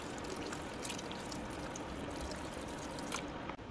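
Filtered water pouring steadily into a Hyundai starch-reducing rice cooker, a soft continuous splashing stream heard up close that stops abruptly at the end.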